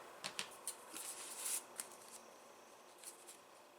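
Scissors snipping through fabric to cut out a small in-the-hoop coin pouch key chain, quiet close crisp cuts in a scattered, uneven rhythm.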